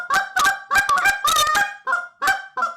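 A goose call with a freshly bent reed is blown in a quick series of about eight sharp, close honks, some clipped short, others drawn out with a cracking break, with no voices.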